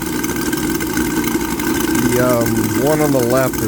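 Twin UMS 5-55 radial aircraft engines run at a steady, loud idle throughout, with a voice talking over the continuous engine drone and a rising rev toward the end.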